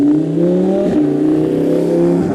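An Audi R8 with a V10 engine revs loudly and close by in one steady, sustained roar with rising harmonic tones, with no talk over it.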